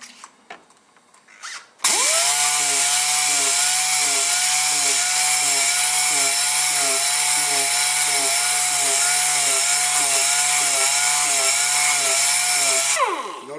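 Pneumatic orbital sander working a surface, with a short scrape and a tap before it starts, then a loud, steady high-pitched air-driven whine with a fast pulsing wobble that runs nearly thirteen seconds and cuts off at the end, no talk.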